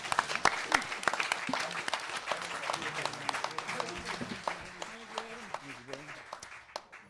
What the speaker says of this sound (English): let's give one last round of applause for our great candidates